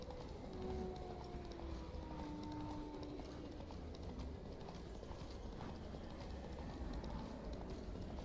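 Roach, Geralt's horse in The Witcher 3: Blood and Wine, gallops with a steady, quick clip-clop of hooves under faint game ambience.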